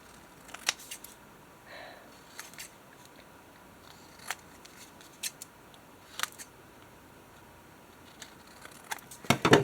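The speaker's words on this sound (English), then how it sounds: "let's cut off the edges that are overhanging" Scissors trim overhanging paper edges from a patchwork junk journal tag in a series of short, crisp snips. The snips are spaced irregularly and sound close by, ending in a quick cluster of cuts.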